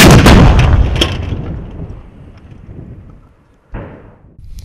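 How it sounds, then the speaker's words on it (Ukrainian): A single loud cannon blast booms and rumbles away, wind buffeting the microphone, followed by a sharp secondary thud near the end. "Гармата!"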